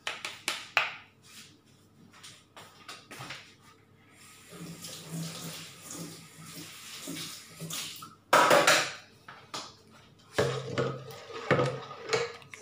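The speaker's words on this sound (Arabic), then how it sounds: "غنغسل المغرفة" A metal ladle being washed under a running kitchen tap, with water gushing in bursts and the clink and scrape of utensil against sink between the flows.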